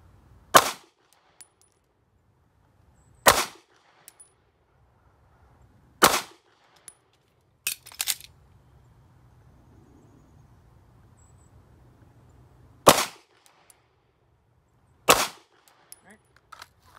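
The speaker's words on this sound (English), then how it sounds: "5 shots, strong hand." Pistol shots fired strong hand in a Dot Torture drill at 5 yards, six sharp, loud cracks spaced a few seconds apart with near silence between them.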